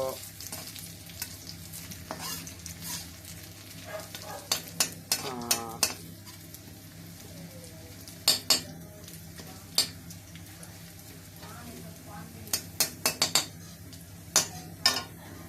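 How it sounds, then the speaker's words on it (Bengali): White cumin seeds with cinnamon sizzling in hot oil for tempering, a steady soft fry beneath sharp, repeated clinks of a spoon against the pan. "দিয়ে দেবো আমি সাদা জিরে। এই হচ্ছে আমার সম্বার।"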